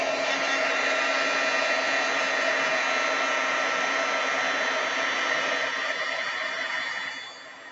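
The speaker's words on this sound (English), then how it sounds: "And I'm just gonna heat set this one." A heat tool blows a steady, loud, even whir while heat-setting a paper craft project, running unbroken for several seconds before the airflow tails off slightly at the end, with no talking over it.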